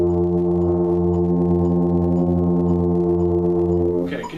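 A tuba section holds a sustained F together for about four seconds, a steady, full low brass chord with rich stacked harmonics, fading out at the end.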